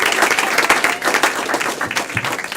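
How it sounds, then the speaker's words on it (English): An audience at a live game event applauds steadily, dense clapping from a crowd filling the space continuously for a few seconds. "Clap for Alex, everyone."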